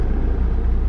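Honda S2000 engine running hard under load, a steady low rumble with pulsing exhaust throb, close and loud for under a second with no voices.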